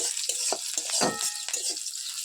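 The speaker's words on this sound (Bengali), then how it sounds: "ভাজা প্রায় রেডি হয়ে গেছে, ভাজা ভাজা পেঁয়াজটা ভাজা ভাজা হয়ে গেল।" Onions fry in a pan for home-style ghugni, giving a bright, steady sizzle up close, broken by repeated scraping stirs and light utensil knocks, with no talking.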